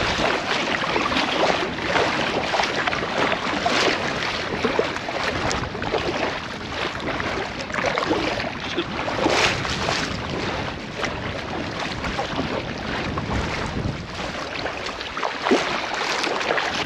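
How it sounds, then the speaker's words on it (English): Steady wind roar buffets a packraft on open water in Glaskogen, Sweden, as paddlers push into a headwind; broadband gusting noise with splashes of paddle strokes continues without a break and with no talk. "It's not that we've got miles to go, but it's definitely a headwind."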